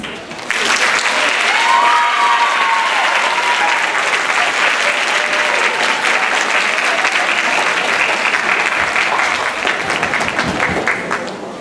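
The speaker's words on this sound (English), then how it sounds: "We'll just give him a big round of applause." Sustained loud applause from a school concert audience, a dense continuous wash of clapping that lasts over ten seconds and fades slightly near the end.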